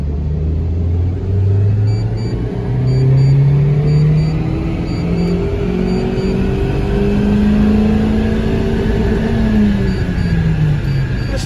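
Mitsubishi Colt Ralliart engine revving on a dyno during a full-power run, loud and close, with the pitch climbing steadily through the gears in long sweeping pulls.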